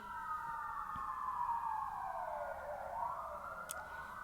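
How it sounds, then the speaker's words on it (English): A wailing siren sweeps slowly down and back up in pitch, steady and moderately distant, with no voices. "excuse the sirens, guys, but that's confirmation for me."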